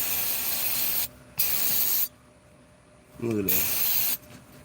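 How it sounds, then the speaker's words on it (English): Brake cleaner sprayed during an oil change, in two sharp, loud hissing bursts separated by a pause, with someone speaking briefly between them. "Use that brake cleaner, man. Don't be scared. It's gonna dry up for you."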